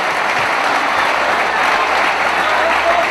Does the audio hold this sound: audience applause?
yes